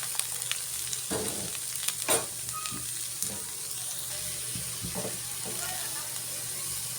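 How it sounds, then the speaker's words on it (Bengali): Potatoes and sliced onion fry in oil for a Bengali aloo bhaji. A steady, fairly close sizzle runs throughout, with occasional utensil knocks and stirring scrapes. "আলু ভাজি করার জন্য তেল দিয়ে দিচ্ছি এখন পেঁয়াজ দিয়ে দিব আলু দিয়ে দিলাম"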